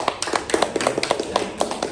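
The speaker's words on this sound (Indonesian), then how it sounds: "Ya, tepuk tangan buat." A classroom of students and parents applauds at a peer-teaching session, a quick run of sharp claps from a small group, close and fairly loud, with no one talking over it.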